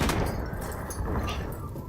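Gunfire in Battlefield 1 on the Argonne Forest map, a dense, continuous rumble of shots and booms with no pause.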